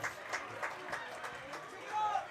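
Crowd noise from the stands at a high school football game between Worthington Christian and Centerburg, a steady murmur with scattered cheers and faint voices rising toward the end.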